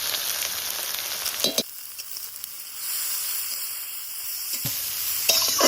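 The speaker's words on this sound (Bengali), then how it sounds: "এবার প্রথমে কচুরি পানাগুলো ভাজে নিব" Water hyacinth frying in mustard oil with salt and turmeric, a loud close sizzle that bursts in at the start, drops to a quieter bubbling hiss, then flares again near the end, with no voices.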